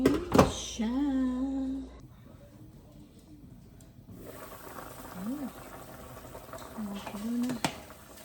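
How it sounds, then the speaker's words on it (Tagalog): Soup broth bubbles in a pot with a quiet, continuous simmer, partly covered by a pitched voice and a few brief clicks and knocks. "Kumulo na."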